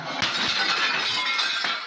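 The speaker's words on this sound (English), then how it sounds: "who'd smashed through the glass to reach him" Loud crash of glass being smashed by paramilitary forces at a court compound during an arrest, with bright shattering and clinking fragments in a dense, continuous burst.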